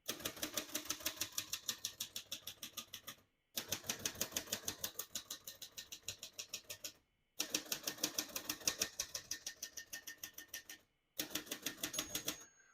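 Rapid, even clacking of keys on a 1948 Royal Arrow portable typewriter in four bursts separated by short pauses, close and crisp.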